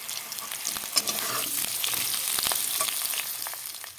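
Potatoes fry in a pan with a continuous crackling sizzle and scattered pops, close and steady with no talking.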